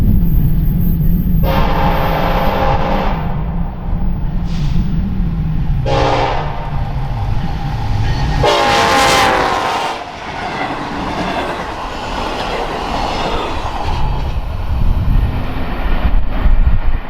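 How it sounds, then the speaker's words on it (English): A BNSF track geometry inspection train thunders east close and loud on Marias Pass, several blasts of its horn sounding over the heavy rumble and clatter of wheels on rails. "a BNSF track geometry inspection train flying east"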